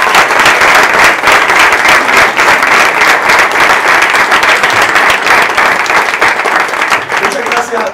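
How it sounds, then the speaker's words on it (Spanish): Loud, dense clapping from a theatre audience after a Spanish-language staging of Molière's The School for Wives in Orlando, sustained and close, with voices mixed underneath. "Así que un aplauso a cada uno de ustedes."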